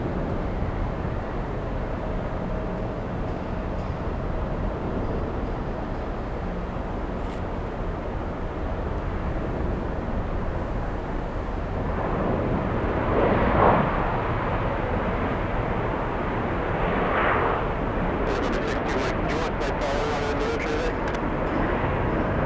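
An Embraer E175 jet airliner at Boston Logan airport makes a steady, broad roar throughout that swells somewhat midway, heard at a distance with no talk.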